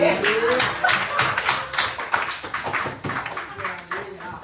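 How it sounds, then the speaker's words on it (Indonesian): Students in a classroom applauding, a burst of dense, uneven hand clapping with scattered taps and voices mixed in, fairly close and lively throughout. "Kasih tepuk tangan."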